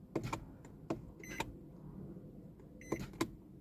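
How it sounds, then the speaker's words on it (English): Sharp metallic taps from the starter motor of a 2008-2013 Infiniti G37, irregular and spaced out, over a low mechanical hum, fairly faint. "Got it tapping sound from the starter."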